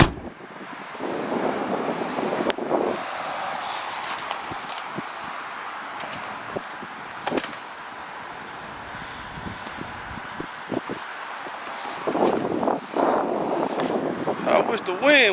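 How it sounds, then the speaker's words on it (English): Wind blowing outdoors around a project car, a broad rushing roar across the mic that swells and fades in gusts, with a few sharp knocks and a person talking at times. "I wish the wind wasn't blowing."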